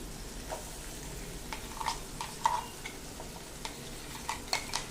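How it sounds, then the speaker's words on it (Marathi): Boiled chickpea paste being sautéed in oil in a pan for Punjabi chole, a quiet sizzle with intermittent scraping and stirring clinks of a spoon against the pan, fairly close but low in level. "ही पेस्ट पण छान परतायची"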